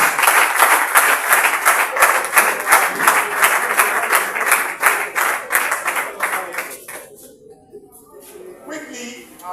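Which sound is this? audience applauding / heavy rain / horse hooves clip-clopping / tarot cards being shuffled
audience applauding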